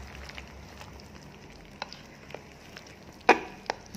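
A spoon stirs rested pumpkin cake batter for steamed apem in a bowl, soft scraping and light clicks at irregular intervals with one sharper knock, close and quiet, with no talk.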